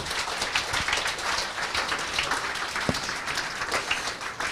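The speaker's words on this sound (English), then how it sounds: "All right, put your hands together, big applause." Applause from a tech conference audience fills the room with dense, steady clapping at moderate volume, continuing evenly throughout without any voices on top.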